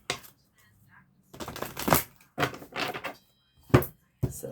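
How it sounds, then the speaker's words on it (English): A deck of archetype cards being cut and shuffled by hand, with several separate bursts of riffling and slapping card sounds spaced by short pauses, close and fairly loud. "So let me do a quick cut and shuffle"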